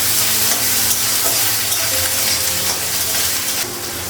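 Vegetables fry in a pan with green chili and ginger paste, giving a loud, steady sizzle with occasional stirring scrapes, close and continuous.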